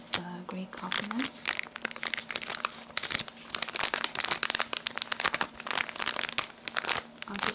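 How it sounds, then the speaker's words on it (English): Greek coffee packaging crinkles and rustles close up in dense, continuous crackling bursts, with a soft voice speaking quietly alongside. "I'll just do some final crinkling things and then tap on the cup and finish the video."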